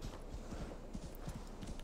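Horse hooves clip-clopping in the video game Assassin's Creed Valhalla, a steady rhythmic trot of hoof beats close by over a constant low background hum.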